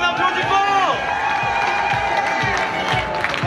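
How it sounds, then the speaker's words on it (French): An audience cheers and applauds in a crowded room at a sapeur fashion show at a book fair, clapping mixed with whoops and shouts, while a voice calls out over the noise. "On applaudit, on applaudit, on applaudit fort."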